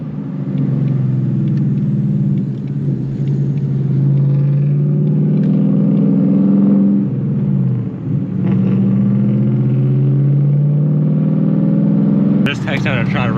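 A 2019 Ford Mustang GT engine rumbling steadily and loudly up close, holding a deep throaty tone with brief dips, while people talk over it.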